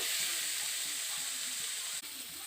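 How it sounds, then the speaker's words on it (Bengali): Potatoes and bitter gourd sizzle steadily in a hot pan, a dense continuous frying hiss with faint stirring scrapes and a brief clack near the end. "আলুটাকে আর একটু নেড়ে নিচ্ছি"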